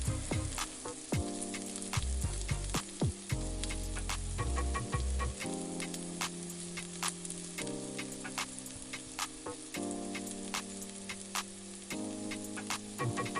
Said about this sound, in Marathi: आता आपण या टमॅटोला छान प्रकारे मौसूदपणा येईपर्यंत तळून घेणार आहोत